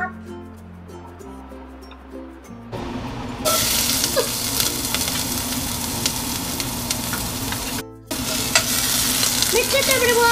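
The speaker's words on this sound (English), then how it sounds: "When the oil is hot, put the onion, but make sure it's hot." Onion hits hot oil in a pot while cooking chicken soup, setting off a loud, steady sizzle and crackle that jumps up after a few seconds of quieter stirring and continues with a brief break near the end.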